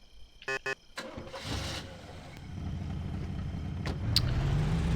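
A car engine in the video game Mafia: The City of Lost Heaven, with a few clicks, then the engine cranking and starting before settling into a running rumble as the car pulls away.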